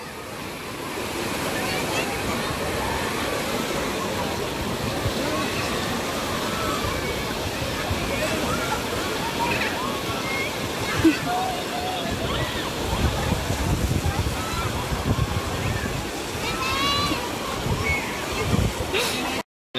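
Water churns and sloshes continuously like rolling waves in a water park wave pool, with a crowd of people talking and shouting throughout.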